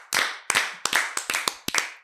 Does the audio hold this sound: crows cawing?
no